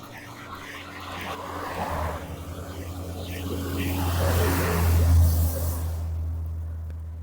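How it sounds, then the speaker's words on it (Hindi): Vehicles pass along the N50 highway in rain, tyres hissing through standing water as traffic swells and fades by, a low engine drone rising toward the middle before tapering off. "N50 हाईवे से गुजरता हुआ ये ट्रैफिक"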